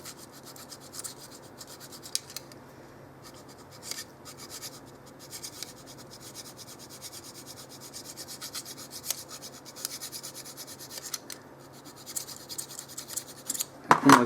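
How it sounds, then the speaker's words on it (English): Fine dead-smooth file rasping along a starter motor brush holder during a Morini starter motor rebuild, a soft steady scraping rub close by, faint and continuous, with a louder clatter at the very end. "I've gone and got my dead smooth file, which is very, very fine and is just about the right size."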